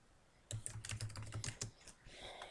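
Code typed on a computer keyboard: a quick run of close, crisp keystrokes that starts suddenly and lasts about a second, then fades into a quieter rustle.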